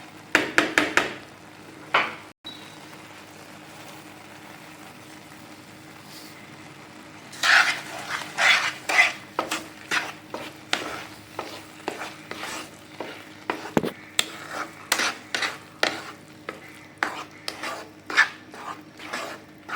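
A spoon scrapes and stirs semiya kesari with added sugar in a pan. It starts with a few scrapes after a quiet stretch, then turns into a steady run of close, repeated scraping strokes.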